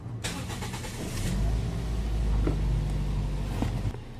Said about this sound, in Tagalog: Kaya switch off ko ulit itong makina tapos start ko yan.